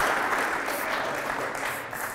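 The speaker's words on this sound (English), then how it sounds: "I'd like to get a round of applause for Candace" An audience at an arts and science think tank talk applauds, a short, steady burst of many hands clapping, moderately loud throughout.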